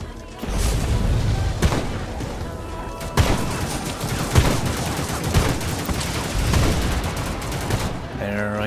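Rapid bursts of gunfire in the video game Plastic Warfare, dense crackling shots with several sharp louder cracks, continuous over the whole stretch with a faint voice in the background.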